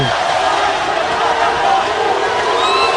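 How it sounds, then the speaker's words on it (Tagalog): Boxing arena crowd at the Magsayo vs Cortes fight, a loud, steady roar of many voices with scattered shouts and whoops swelling and holding throughout. "The crowd."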